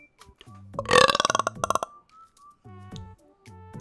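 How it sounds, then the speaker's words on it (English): A single long, loud, close burp with a rattling, croaking texture, followed by a few faint clinks and quieter sounds. "So, burp."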